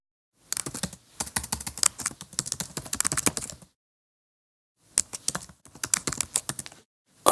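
Rapid clattering keystrokes on a computer keyboard come in two bursts separated by a pause of silence, close and crisp with no talking.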